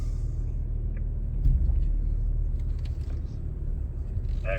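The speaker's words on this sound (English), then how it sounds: "Car 1, I want you to go ahead and start to crawl up the hill. 3 miles an hour is going to be perfect." A car crawls slowly up a hill at about 3 mph during a driving experience, giving a low, steady engine rumble close by with a brief swell partway through.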